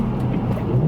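Brief burst of low, steady engine drone from a BMW Z3 M Coupe's S54 engine as it works through its 5-speed manual, heard from inside the cabin with road noise.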